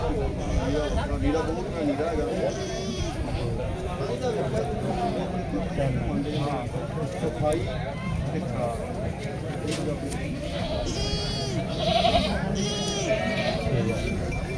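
Goats and young kids bleat over and over at a goat market in Surewala, their calls rising through a steady hubbub of crowd chatter and nearby talking voices for the whole stretch.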